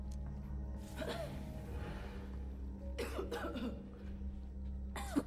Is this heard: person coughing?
yes